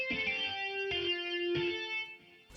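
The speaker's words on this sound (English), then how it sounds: "For this guitar sound, I'm using Guitar Rig preset." Guitar played through a Guitar Rig basic jazz amp preset in a hip-hop production, three ringing, sustained chord strikes about half a second apart, warm and clean, then fading out.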